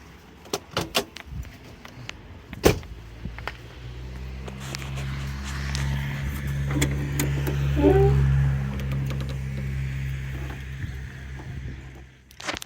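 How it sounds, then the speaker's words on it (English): A Ford car's hood being opened: a few sharp clicks and clunks of the latch and handle at the start, then a low steady engine idle rumbling underneath, ending with another soft knock. "I'm just gonna pop the hood."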